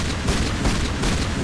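A shotgun called Armageddon fires in a video game, giving heavy, loud booming blasts that run together into a dense, rumbling roar over a second and a half.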